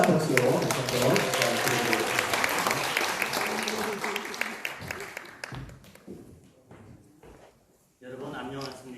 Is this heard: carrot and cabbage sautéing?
no